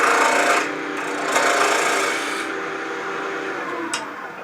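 A wood lathe spins a bowl while a small 3/8 inch C-shaped bowl gouge shaves it, giving a loud, continuous scraping hiss with a few short bursts and dips.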